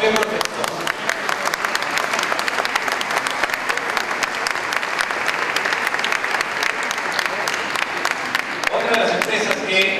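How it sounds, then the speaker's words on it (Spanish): A hall audience at an awards ceremony for distinguished personalities of the year breaks into loud, sustained applause, dense clapping filling the room throughout with a brief shift near the end. "Los aplausos bien perfectos."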